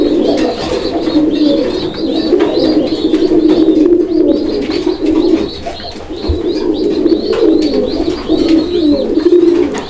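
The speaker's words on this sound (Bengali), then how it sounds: "কবুতরের ডাক তো দেখতেই পাচ্ছেন" A loft of pigeons kept for sale, including shorting pigeons, coos continuously in loud, close, overlapping calls, with faint chirps and a brief wing flutter among them.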